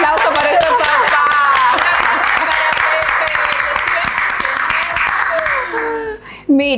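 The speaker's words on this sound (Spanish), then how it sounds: "Un aplauso para ese papá." A crowd of parents and children claps in dense, loud applause with cheering voices mixed in. The clapping thins out toward the end as a voice rises above it.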